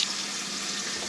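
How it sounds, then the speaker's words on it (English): Water running steadily from a kitchen tap into a sink fitted with an Insinkerator waste disposal unit, a continuous hiss at moderate level with no voices. "Now we'll turn the water on"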